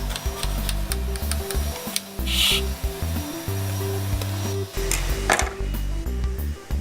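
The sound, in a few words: cutting a condensed milk cake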